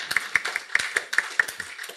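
Scattered, sparse hand claps from a small lecture audience, a handful of distinct sharp claps spread unevenly over two seconds, fairly close and thin rather than a full ovation.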